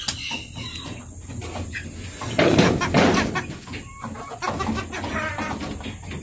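Japanese Shamo chickens cluck and call close by in a farmyard, with irregular bursts of clucking and a louder flurry midway, plus occasional knocks.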